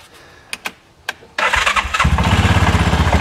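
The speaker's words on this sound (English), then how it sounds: "So let's fire this thing up." A Cub Cadet Challenger 500 UTV engine cranks over after a few clicks, catches and settles into a loud, close, rhythmic idle that pulses steadily.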